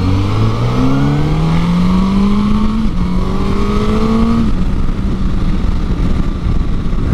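A 2024 Suzuki GSX-S1000GX+ sport touring motorcycle engine pulls hard through rising gears, its pitch climbing steadily and dropping at each shift, loud and close with no talking.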